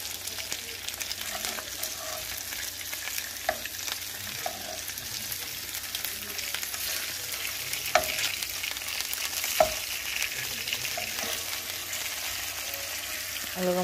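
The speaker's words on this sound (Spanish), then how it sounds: "Así volteamos las patitas, las vamos sellando hasta que estén bien cociditas." Chicken legs searing in a pan for chicken in guajillo chile red sauce: steady close crackling sizzle of frying throughout, with a few sharp pops and utensil clinks standing out, no talking.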